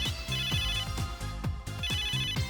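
An electronic phone ringtone from the video game Megadimension Neptunia VIIR plays a repeating melodic pattern of bright tones, loud and continuous with no voices.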